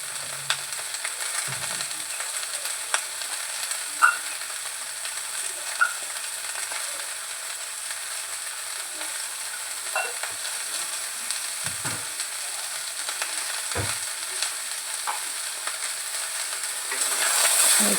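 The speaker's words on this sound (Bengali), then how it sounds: "একটু নাড়াচাড়া করে নেবো।" Cauliflower stalks and winter vegetables with salt and turmeric fry in a pan with a steady close sizzle, broken by occasional scrapes and knocks of a stirring utensil.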